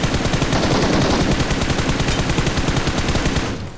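Groza assault rifle fire in the mobile shooter BGMI, a loud rapid automatic burst of evenly spaced shots lasting several seconds before cutting off, no speech.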